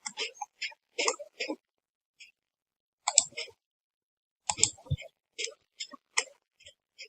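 A computer mouse clicks on a desk while someone works in SolidWorks. There are sparse, quiet, sharp clicks, single and in small clusters, with silent gaps between them and a brief low thump near the middle.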